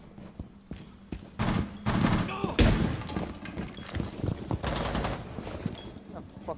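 Gunfire from a shooter video game comes in rapid bursts and single heavy shots with thuds and a shattering crack, loud and close, mixed with game noise.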